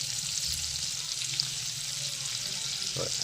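Crabs fry in a pan with a steady, close, bright sizzle that runs unbroken throughout, a faint low background hum beneath and a small stir or bubbling near the end, with no talk.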